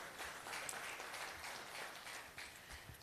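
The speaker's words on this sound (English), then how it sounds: "you can clap" An audience at an investment forum claps steadily in a fairly quiet, even patter that holds for a few seconds without a break.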